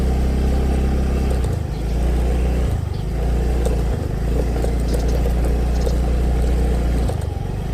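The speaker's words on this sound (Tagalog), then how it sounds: "Talagang iyakan ni Yamaha Mio Gravis kahit off-road." A Yamaha Mio Gravis scooter grinds along off-road with a loud, continuous low engine drone that dips and strains briefly a few times, alone with no speech.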